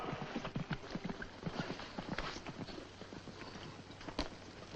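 Horses' hooves clopping as a cavalry troop dismounts, dense irregular clip-clop from several animals over quiet ambience, moderately close, no talking.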